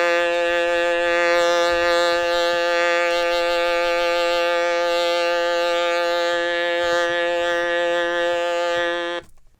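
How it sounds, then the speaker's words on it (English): Stylophone holds one continuous buzzing tone for about nine seconds, loud and close, while a hand over its speaker gives it a slow wah-like swell; it stops abruptly at the end. "you could affect the sound by putting your hand over the speaker and kind of opening and closing that to give it kind of a wah sound"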